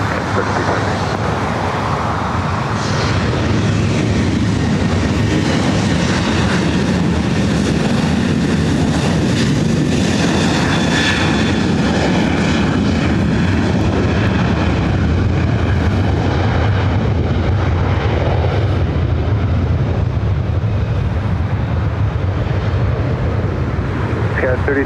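An airliner takes off from runway 24 right at LAX. A loud, continuous jet roar fills the whole stretch, with faint voices underneath.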